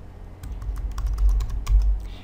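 Fingers tap out a short name on a computer keyboard, a quick run of light, close clicks in small bursts with no talking.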